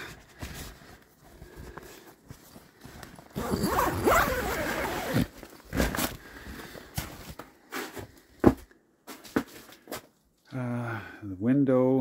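Zipper on the double front door of a military winter tent in cold, wet, heavy snow, pulled in short rasping bursts close by between bouts of speech, with rustling fabric and a voice talking near the end.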